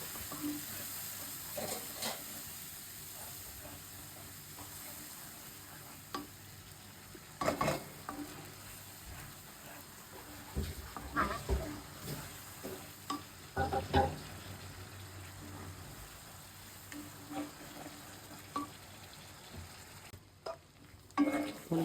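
Chilli powder and salt are sautéed and stirred in a pan for a raw jackfruit curry, with a quiet low sizzle broken by repeated scraping strokes of a spoon.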